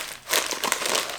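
Thick plastic freezer bag crinkling and rustling steadily as it is handled up close, a dense run of crisp crackles lasting about a second with no talk.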